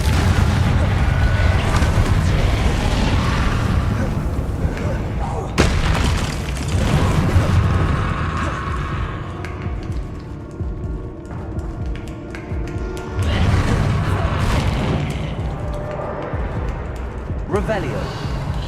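A Confringo spell explodes in Hogwarts Legacy with a heavy, sustained boom and rumbling blast that swells and fades, then a second burst follows, all under a player's voice talking throughout.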